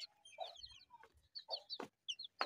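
Fancy hens wander and cluck nearby, giving short irregular clucks and chirpy squawks spread across a quiet moment, with no talking.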